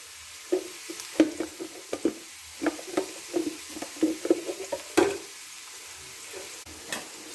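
Dried red chillies and curry leaves frying in a pan, a crackle of small sizzling pops and spatters in an uneven rhythm, near and fairly quiet, with no talk.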